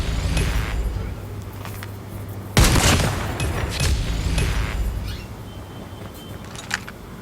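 Gunfire in the video game Call of Duty, with one loud burst of shots or an explosion near the middle, then scattered fainter shots over steady game background noise.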